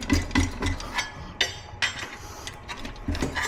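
A crowbar pries at seized dowels between the engine and transmission of a Subaru WRX STI, producing close, irregular metallic clinks, knocks and scrapes over a low background rumble.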